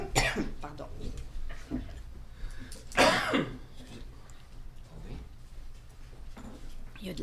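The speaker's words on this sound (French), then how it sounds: "Il y a de la toux qui court ici." Coughing and throat clearing in a municipal council meeting room in Boisbriand: several scattered coughs, one louder burst near the middle, over a quiet murmuring room.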